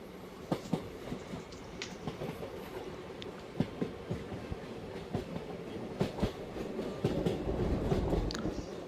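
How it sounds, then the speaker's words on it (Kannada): The Wodeyar Express runs through Srirangapatna station without stopping, heard from on board as a steady rolling rumble with rhythmic clickety-clack wheel beats that swell slightly toward the end. "ಶ್ರೀರಂಗಪಟ್ಟಣ ರೈಲ್ವೆ ಸ್ಟೇಷನ್ನ ಸ್ಕಿಪ್ ಮಾಡ್ತಿದೆ ನಮ್ಮ ಟ್ರೈನ್ ಈಗ."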